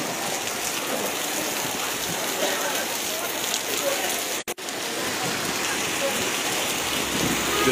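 Heavy rain pours steadily in Sylhet, Bangladesh, a loud, dense hiss close to the camera with water striking the lens. The sound cuts out for a moment midway and then carries on unchanged.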